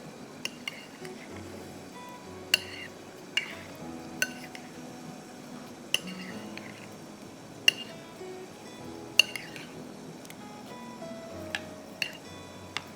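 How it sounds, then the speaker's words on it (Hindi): A utensil stirs two eggs into marinated fish in a bowl with soft, steady scraping. Sharp clinks against the bowl come every second or two, close and quiet, with faint background music and no talking. "ठीक है, 2 अंडे चले गए. इसको आप अच्छी तरह मिक्स करेंगे."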